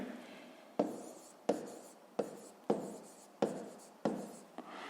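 Pen writing by hand during a fifth-grade maths exercise on average speed, heard as six sharp strokes at a steady rhythm, each one fading quickly, close and fairly faint.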